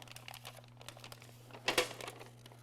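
A paper template for a handmade sheet metal cowl panel is slit and folded over, giving one short, close crinkling burst midway. Light ticks and a steady low hum from the workshop fill the rest.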